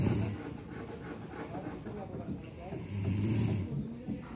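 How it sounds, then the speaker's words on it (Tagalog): A worn-out person sleeps and snores heavily inside a bamboo house, long rasping rumbling breaths that rise and fall, loud and close, over a faint background. "Ote, para talagang may nagpuputol ng kahoy ba sa sobrang lakas ng hilik niya."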